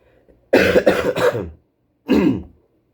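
Several harsh coughs in quick succession, then a pause and one more throat-clearing cough, close and loud with no talking.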